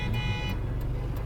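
A car horn honks repeatedly from a vehicle stuck behind in traffic, sounding as short muffled toots over a steady low engine and road rumble, heard from inside a car.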